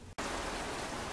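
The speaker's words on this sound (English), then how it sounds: "look at all that rain." Steady heavy rain pours outside a bus, a dense even hiss that briefly drops out at the very start and then continues unbroken and fairly loud.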